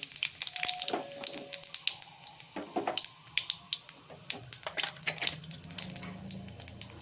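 Mustard seeds and cumin sizzling in hot oil, with rapid sharp crackles and pops scattered densely over a steady frying hiss, close and fairly loud.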